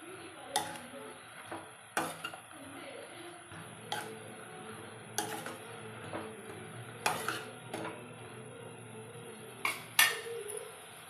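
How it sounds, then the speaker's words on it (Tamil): Chopped coriander sautéed in a pan: quiet spatula scrapes and knocks against the metal recur every second or two over a faint background hiss. "சேர்த்து நல்லா வதக்கிக்கோங்க. பச்சை வாசனை போகிற வரைக்கும் நல்லா வதக்கிக்கோங்க கொத்தமல்லியை"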